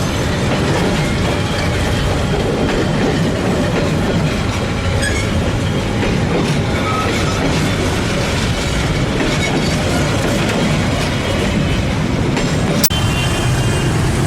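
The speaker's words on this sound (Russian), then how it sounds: "проходящий поезд для них так же обычен" A train rumbles steadily past close by through a narrow street in Hanoi, loud and continuous, with a rhythmic clatter of wheels on rails and a brief sharp squeal near the end.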